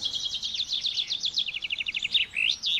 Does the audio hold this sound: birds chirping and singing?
yes